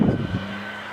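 A time attack race car drifts around the track at a time attack event, a loud rumbling engine burst at the start easing into a steady, fading drone with wind noise.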